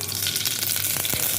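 Mustard seeds fry in groundnut oil in a village kitchen while tomato rice is being made, giving a steady close sizzle with faint crackles and pops.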